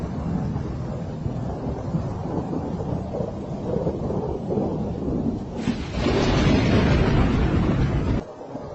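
A thunderstorm with steady rain and gusty wind buffeting the microphone, low rolling thunder rumbling throughout, then swelling into a louder, heavier roar before dropping off abruptly.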